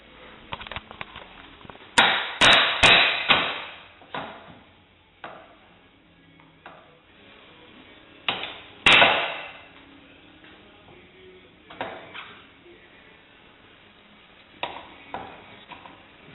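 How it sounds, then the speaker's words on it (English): A hammer taps on the front suspension hub of an 800cc Hisun side-by-side to free the CV shaft from the spline hub: a quick cluster of sharp metallic strikes, then one more a few seconds later, close and ringing over quiet workshop ambience. "Move your brake line and tap this down as well."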